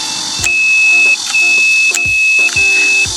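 Turn signals on a SKYBOARD BR30-2WD all-wheel-drive electric scooter beep in a steady repeating rhythm, with a sustained electronic tone and a sharp tick at each blink, close and loud.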